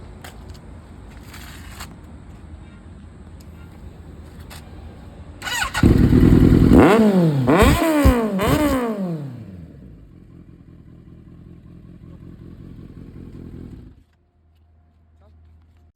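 A Kawasaki Z900 motorcycle engine idles, then revs hard several times in quick, sharp bursts before settling back to a low idle and cutting off.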